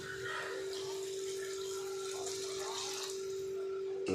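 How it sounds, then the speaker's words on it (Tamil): Hot water pours steadily in a continuous stream for chicken curry, a soft splashing wash with a faint steady hum beneath it. "சுடு தண்ணி ஊற்றிக்கிங்க"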